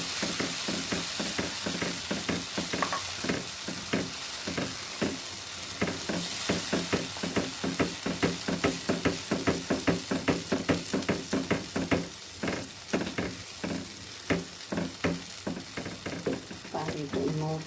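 Semolina halwa cooks with water in a pot, sizzling and bubbling while a spoon scrapes the bottom in quick, regular strokes that repeat throughout. A voice talks faintly at times.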